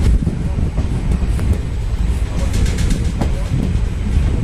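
Passenger train pulling out of Sihora station on a Rishikesh–Bandikui run, a loud rumbling roll with rhythmic clattering of wheels over rail joints heard from aboard, some voices faintly mixed in.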